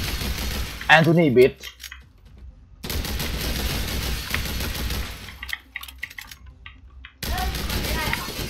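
Bursts of gunfire from a boss fight in The Hong Kong Massacre, a top-down shooter video game, come in short clusters separated by near-silent gaps, with a brief loud voice early on.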